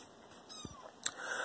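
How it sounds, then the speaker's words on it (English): A newly adopted cat gives a short, quiet whining meow in a room, a brief faint cry amid low background noise. "Cat, be quiet. Got a new cat."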